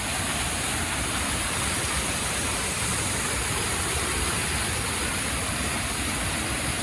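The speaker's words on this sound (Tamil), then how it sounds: "அப்படியே அருவியிலேருந்து தண்ணி ஊற்றுற மாதிரியே இருக்குது" Water pours steadily over the Chithirai Chavadi dam near Coimbatore like a waterfall, a dense, unbroken roar that fills the scene at a moderate level with no voices.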